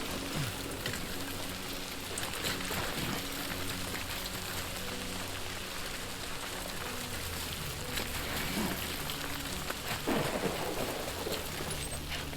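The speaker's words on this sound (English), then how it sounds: "Yeah, I do want this rain to stop, kind of." Steady rain with rolling thunder in the video game Death Stranding 2, a dense continuous hiss of downpour with low rumbles swelling through it, loud and unbroken from start to finish.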